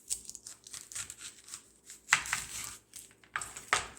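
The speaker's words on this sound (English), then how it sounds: "Very simple way to get some skin off of an onion. First, cut both sides." A knife slices both ends off a very large onion: crisp crunching cuts with papery skin crackling, a few sharp bursts standing out over quieter rustling, close and fairly soft.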